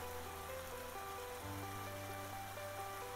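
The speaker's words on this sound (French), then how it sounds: "Tu entends le cliquetis de l'eau d'un ruisseau qui coule pas très loin." A stream flows nearby in a sunny early-summer outdoor setting, a steady soft wash of running water heard throughout beneath sustained, gently shifting musical tones.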